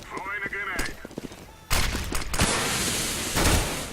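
A video game shooter erupts in a dense burst of gunfire with sharp cracks and a sustained rattling volley, following a stretch of talk by players over quieter game sounds.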